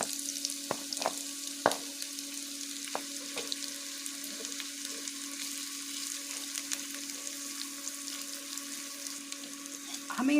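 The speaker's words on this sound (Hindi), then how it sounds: "तो सबसे पहले हम गरम तेल में ऑनियन ऐड करेंगे और फ्राई करेंगे।" Onions frying in hot oil for Kashmiri-style mutton biryani give a steady, close sizzle with a dense hiss and scattered sharp pops throughout, no voices.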